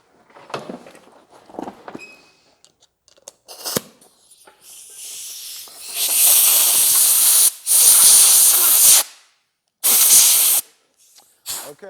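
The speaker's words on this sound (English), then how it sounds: "Then I'm going to take my air compressor and blow it out." An air compressor blows out a Coleman single-mantle lantern's fuel and air tube, giving loud sustained hissing blasts in several bursts after quieter handling sounds.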